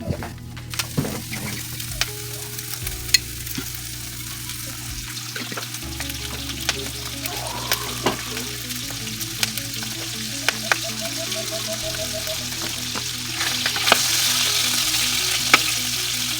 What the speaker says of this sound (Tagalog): Lalagyan naman natin ng mantika para sa ating sibuyas at saka bawang.